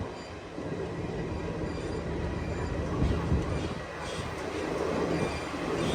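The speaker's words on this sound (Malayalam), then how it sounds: "കായംകുളം ജംഗ്ഷൻ റെയിൽവേ സ്റ്റേഷനിലേക്ക് ഇതാ നമ്മുടെ ട്രെയിൻ എത്തിക്കൊണ്ടിരിക്കുകയാണ്" The Garib Rath Express rolls into Kayamkulam Junction station on its Kochuveli to Lokmanya Tilak run, a loud, steady rumble of wheels on track with squealing metal and a dense, continuous roar close by.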